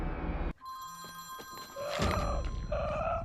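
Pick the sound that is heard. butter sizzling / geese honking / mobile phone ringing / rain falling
mobile phone ringing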